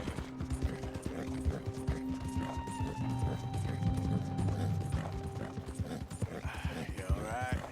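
Hooves of a dapple dark gray Hungarian Halfbred horse clip-clop in Red Dead Redemption 2, a quick, steady trot near and clear, with mechanical clatter and a brief whinny-like sound toward the end.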